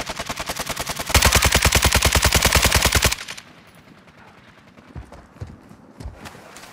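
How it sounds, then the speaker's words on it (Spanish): Heavy automatic gunfire in Call of Duty Warzone 2, a fast loud burst of evenly spaced shots lasting about two seconds, then fading into quieter scattered impacts and distant pops. "¡Se están disparando a aliados!"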